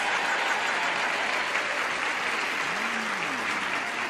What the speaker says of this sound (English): The way you're cheering and screaming and hollering.